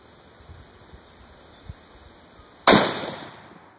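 A single sharp, loud crack from a Howa heavy-barrel 6.5 Creedmoor rifle, followed by a decaying echo, after a few seconds of quiet outdoor background with faint small knocks.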